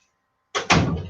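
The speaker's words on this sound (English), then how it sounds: "let me close this door." A door closes in a room where people have gathered, giving one sharp thunk followed by a slightly louder slam. The sound is close and clear and ends in a brief rumbling tail.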